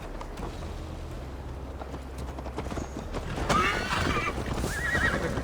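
A horse in the video game Assassin's Creed Valhalla gives a loud, close whinny over a steady clip-clop of hooves that grows louder toward the end.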